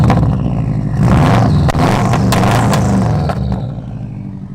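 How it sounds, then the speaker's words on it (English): A loud Honda S2000 sports car engine roars up close, revving hard and then easing off as the sound fades near the end, with no talk over it. "Yeah, car's loud."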